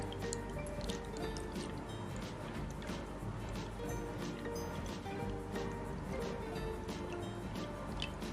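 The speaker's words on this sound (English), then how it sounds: "you need to pour the water into a glass" Water poured into a glass until it is three-quarters full, a steady close liquid pour with dripping, trickling detail over a dense watery background, continuous for the whole stretch without voices.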